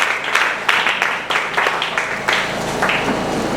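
A church congregation applauding the Lord, bursts of clapping rising and falling in waves across a large room, loud and continuous, with faint voices mixed in.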